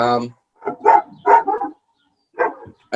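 Dogs bark outdoors in a few short, separate bursts, loud and fairly close, with quiet gaps between the barks.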